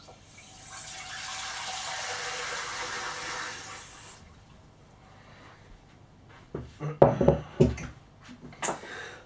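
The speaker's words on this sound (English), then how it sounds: "So pour the cold water for the rice, the ingredients for amount, into a medium saucepan with a tight fitting lid." Cold water pours from a tap into a medium saucepan for rice, a steady hiss for about four seconds, then a short pause and some clattering kitchen handling.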